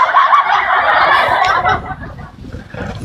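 A turkey gobbling in a loud, close, rapid burbling burst that fades into quieter rustling over a few seconds.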